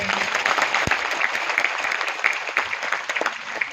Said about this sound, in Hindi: तो ये इस सिस्टम के लिए और सेफ शॉप के लिए एक जोरदार तालियां हो जाए।